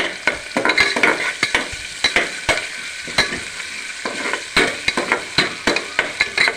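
Onions, turmeric, curry leaves and ginger paste stirred in hot frying oil in a pan for a potato tomato curry: steady close sizzling, punctuated by frequent sharp scrapes and clinks of a spoon against the pan, with no talking.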